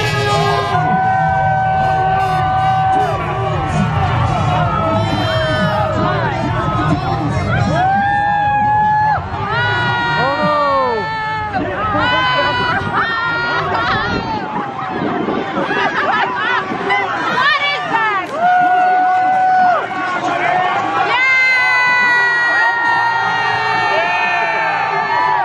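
Crowd at a couch recliner race in Sanford, Florida, cheering and whooping loudly with excited shouts and babble throughout, rising and falling in waves.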